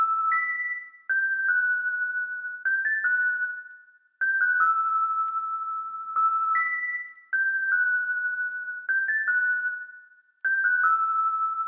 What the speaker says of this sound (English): The next sound that I added was some distant bells.